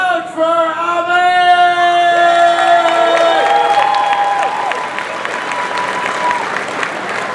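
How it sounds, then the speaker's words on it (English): Audience at a live contest event in Berlin applauding and cheering loudly for a contestant, dense sustained clapping with whoops, while sustained electronic musical tones play over the first half. "And on the other side, crowd for Abe!"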